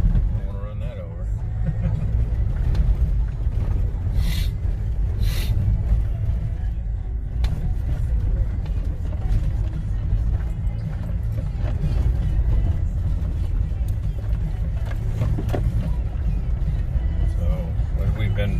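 A Jeep rolls over a bumpy desert trail near Quartzsite, its engine and tires making a steady low rumble throughout, with occasional knocks and jolts while people talk inside the cabin.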